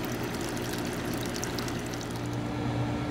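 Water running steadily out of a heat exchanger on a solar powered heat pump setup, a continuous close pouring hiss with a low pump hum beneath, no voices.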